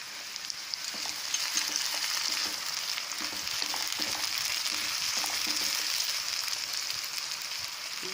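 Capsicum and peas for kulcha stuffing frying in a pan, a steady close sizzle and crackle with occasional light stirring knocks, continuous throughout.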